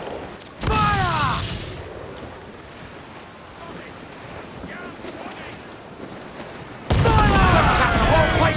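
Ship cannons firing in Assassin's Creed 4: Black Flag, with two loud booming volleys at the start and end over a steady bed of ocean surf and wind.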